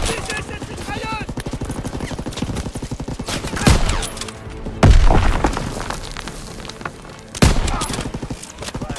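Machine gun fire rattles in rapid bursts during a D-Day beach landing in the Call of Duty WWII video game, loud and close, punctuated by heavy booms and impacts, with shouting voices in the battle din.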